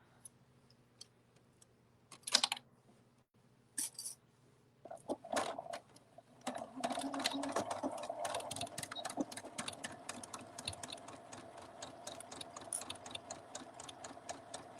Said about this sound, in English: we'll sew that dart